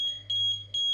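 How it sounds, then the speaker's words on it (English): Arduino-built smart walking stick for the blind sounding its obstacle alarm: a steady high electronic beep repeating in short, even pulses, close and clear with no talk. "It's going to give constant beeps."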